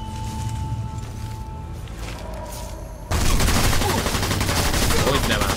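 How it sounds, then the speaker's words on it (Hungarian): Sniper Elite 4 gunfire bursting in abruptly and staying loud, a dense rattling fusillade after a quieter stretch of game ambience. "Na, ne lövöldözz már!"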